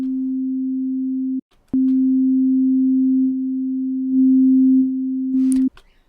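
Two identical sine tones played together in phase, merging into one steady, loud pure tone that holds for several seconds, cuts briefly, then resumes and ends with a short click.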